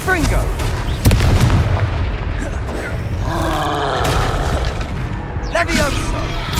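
Confringo fire-blast spells in the Hogwarts Legacy game, a loud booming impact near the start followed by crackling bursts and whooshes amid battle noise, with voices shouting over it.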